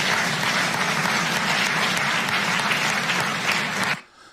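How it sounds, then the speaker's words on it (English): An audience applauding a speech, loud dense clapping from a large crowd that holds steady and then cuts off abruptly near the end. "Why in the fuck are they clapping for that?"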